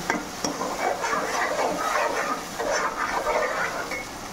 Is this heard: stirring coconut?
yes